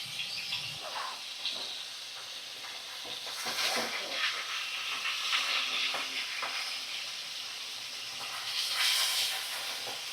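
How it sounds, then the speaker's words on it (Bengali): Bhola fish, a soft fish, fries in hot oil in a pan, giving a steady close sizzle and hiss for the whole stretch with brief louder crackles as the pieces are turned. "চলো মাছগুলো ভালো করে ভাজা করে নিই, এপাশ ওপাশ সুন্দর করে ভাজা করে নিই"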